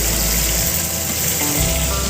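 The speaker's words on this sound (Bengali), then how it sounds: "এদিকে মাছ ভাজা হচ্ছে" Loud, dense sizzling and crackling of fish frying in hot oil in a pan, steady and close throughout.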